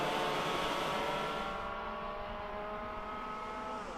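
TKM racing karts at Kimbolton howl past into a corner, engines loud at first and then fading as their pitch drops into the distance.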